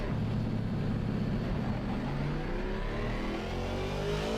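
BMW 3 Series rally car engine in Assetto Corsa Rally, a steady mid-pitched drone with a slowly rising rev, close and continuous, with no voices over it.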